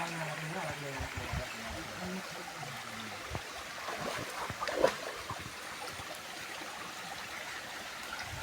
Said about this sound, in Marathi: मस्त फक्त पाण्याचा आवाज येतोय